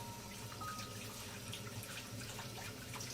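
Water runs steadily from a tap as a hand is washed at a sink, a soft continuous splashing and trickling at low volume for a few seconds.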